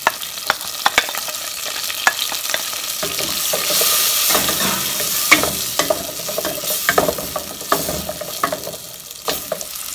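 Onion and garlic fry in a pan with a constant close sizzle, cut through by frequent sharp clicks and scrapes of a utensil stirring.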